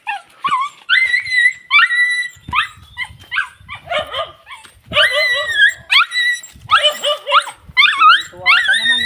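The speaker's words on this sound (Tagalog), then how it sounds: "yung aso namin, no? Sinusundo agad kami guys." A dog greets its returning owners with excited barks, high yips and whimpering whines in irregular bursts close by, while people talk over and between the sounds.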